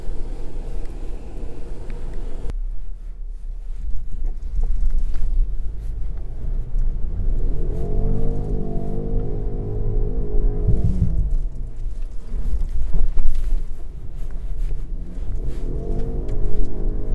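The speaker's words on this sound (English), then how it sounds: "I'm about to go through a big water splash now." A 2021 Land Rover Defender 90 pushes through a deep muddy water splash on an off-road course, its engine droning in rising and falling surges over a constant rushing, sloshing wash of water.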